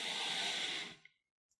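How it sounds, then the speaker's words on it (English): A single noisy breath is drawn in through the nose, a close, breathy hiss lasting under a second and then cutting off into silence. "If you only use your nose to breathe, to inhale, to take in air like this"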